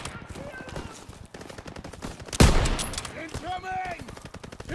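Rapid machine gun bursts and rifle shots crackle through a World War II battle in the game Call of Duty WW2, with a loud close blast midway, distant shouting voices and whistling shells overhead.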